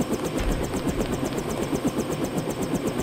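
A helicopter's engine and rotor run steadily close by in the stealth action game Deus Ex, a continuous chopping whir with a fast even pulse throughout.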